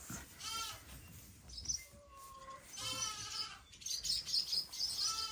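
Sheep ewes bleat repeatedly in a barn, several overlapping calls near and farther off with quieter rustling between them and a few faint higher chirps.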